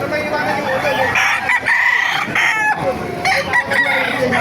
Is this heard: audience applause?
no